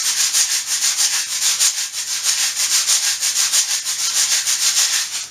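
Homemade shaker filled with BBs, shaken in a steady, even rhythm that gives a bright, hissy rattle, close and alone with no talking.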